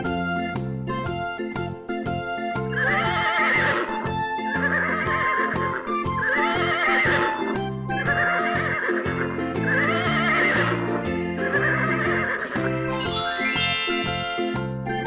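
A cartoon-style horse neighs in a run of repeated whinnies over a bouncy, jingling musical backing with clip-clop-like rhythm, bright and loud throughout.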